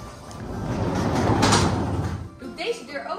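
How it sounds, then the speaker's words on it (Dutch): A stable door is pulled open in one long scraping, rumbling movement that builds and then fades, followed by a few quieter knocks near the end. "Doe deze deur open."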